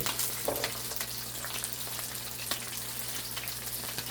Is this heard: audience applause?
no